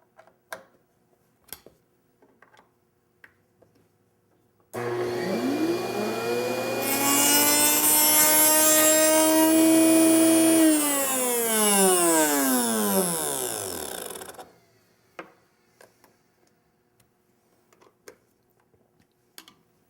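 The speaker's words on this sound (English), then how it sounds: "With the bit running, I'm going to run the fence into the cutter" A router bit spinning in a router table as a zero clearance fence is pushed into the cutter, a loud sustained whine with pitch sweeping up on start and falling on spin-down, with light clicks before and after.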